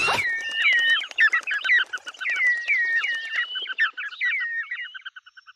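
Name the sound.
small birds chirping, background sound effect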